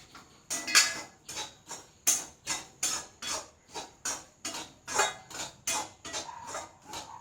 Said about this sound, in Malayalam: ഈ പുളിയും കൂടി ഞാൻ അങ്ങോട്ട് ഇട്ട് കൊടുക്കുകയാണ് നമ്മുടെ ജീരകം എല്ലാതും അങ്ങോട്ട് ഇട്ട് കൊടുത്തിട്ട് നമുക്കൊന്ന് ഇങ്ങോട്ട് ഇളക്കി കൊടുക്കാം